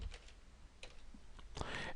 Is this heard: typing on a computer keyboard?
yes